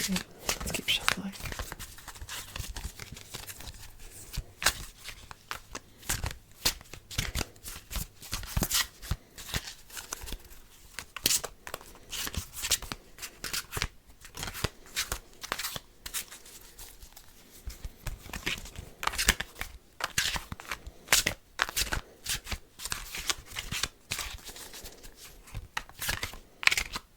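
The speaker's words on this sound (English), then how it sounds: "Let's keep shuffling." Tarot cards are shuffled over and over in a soft, close, continuous run of riffling and patting during a calm ASMR session, with a gentle voice speaking quietly over it.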